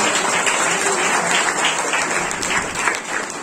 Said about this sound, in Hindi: स्वागत है आपका, जोरदार तालियां